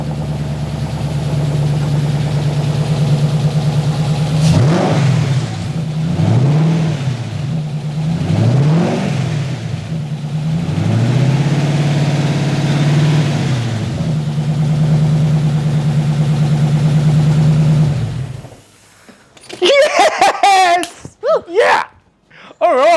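A swapped-in V8 engine in a Porsche 986 Boxster track car idles loudly, then rises in several strong revs with sweeping pitch, settling back to a steady rumble before cutting off; excited voices follow at the end.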